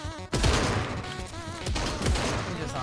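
Rapid gunfire rattles through a competitive shooter video game match, dense bursts of shots cracking close and loud, with a short pause mid-clip before the volleys resume.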